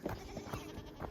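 Goats on a farm bleat faintly at a distance, a few soft calls over a muffled outdoor background.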